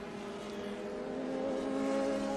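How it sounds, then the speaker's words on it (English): Race car powered by a high-revving Hayabusa Suzuki 1-liter motorcycle engine, racing at Indianapolis Motor Speedway, sustains a loud, steady engine whine that swells slightly as it holds high revs. "Hayabusa or Suzuki 1-liter motorcycle motor, high revving, has a great whine to it."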